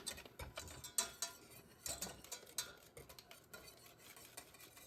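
A spoon stirs a juice and syrup gummy candy mixture in a bowl, making a quiet run of rapid clinks and scrapes at an irregular, busy rhythm, close and faint.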